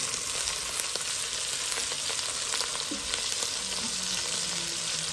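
Onions frying in a pan over a gas flame, a steady even sizzle with no talking.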